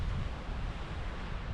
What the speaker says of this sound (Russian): Волна практически сбивает с ног.